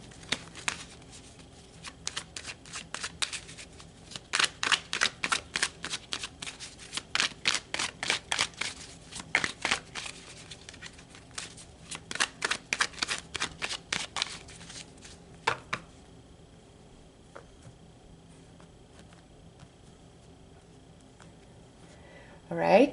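Tarot cards of the minor arcana are shuffled close up in rapid riffling bursts of crisp slaps, repeated over several rounds before going quiet.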